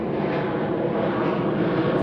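A loud airplane roars past at an air show, its steady, heavy engine noise filling the whole stretch without a break.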